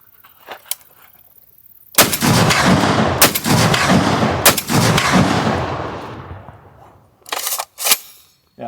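Large-calibre rifle firing 770-grain rounds outdoors: several sharp, very loud blasts, each followed by a long rolling echo, with gaps between them and a couple of quicker reports near the end.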